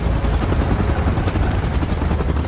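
Helicopter rotor chop in the PUBG Mobile Titans Last Stand mode, a loud steady low thumping that fills the whole stretch, mixed with bursts of gunfire and no voices.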